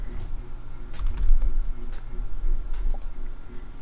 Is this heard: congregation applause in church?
no